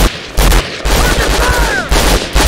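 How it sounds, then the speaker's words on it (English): Gunfire in the Conflict Global Storm game, loud close bursts of automatic fire in irregular clusters with brief gaps and whizzing ricochet-like tones, over a scrap of distant voice. "Under fire!"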